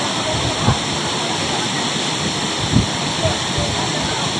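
Steady broadband rush of the Kilesapuram waterfall near Vijayawada, continuous and fairly loud, with a few brief low thumps rising above the constant roar.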